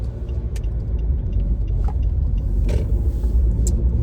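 Car driving on a road to a grocery store, heard from inside the cabin as a loud, steady low rumble of engine and tyre noise with a few faint clicks and knocks.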